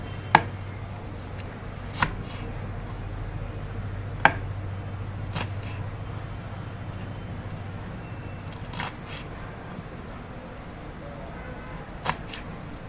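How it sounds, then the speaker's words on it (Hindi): A knife cuts small green chilies into two pieces each on a board, giving sparse, sharp single chops spaced seconds apart over a low steady hum, with occasional quiet talk. "आपने हरी मिर्च इस तरह काटनी है। हरी मिर्च छोटी है, हमने दो दो पीस करने हैं इसके।"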